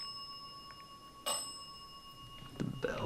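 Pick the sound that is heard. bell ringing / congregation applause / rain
bell ringing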